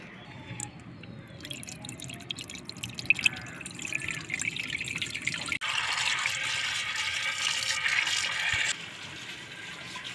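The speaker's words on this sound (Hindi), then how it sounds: "तो मैं अच्छी तरह से धो लेती हूँ," Running water splashes from a tap while cauliflower is washed in a village-style home kitchen, with drips and a fuller gush partway through and no talk.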